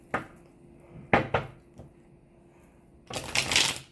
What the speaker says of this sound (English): I feel like this deck needs to be shuffled again.